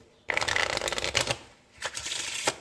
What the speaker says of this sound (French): je vais bien sûr mélanger les cartes, hop, par exemple avec un mélange américain